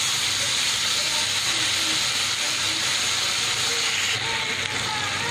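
Curry leaves, cumin and mustard seeds sizzle in hot oil for a Kashmiri potato side dish, a steady broadband hiss and crackle that holds close and even throughout, with no one speaking.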